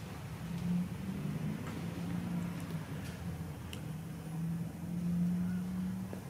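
A 1971 Oldsmobile Cutlass convertible with dual Pypes performance mufflers idles steadily, a low, even exhaust rumble heard faintly and at a distance with a few light ticks over it.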